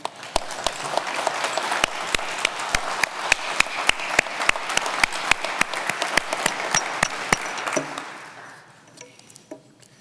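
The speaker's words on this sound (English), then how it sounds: "recognize them with a warm round of applause" Applause rises from a seated audience at a college honors ceremony, a steady crowd wash punctuated by sharp, distinct claps from nearby hands, fading out toward the end.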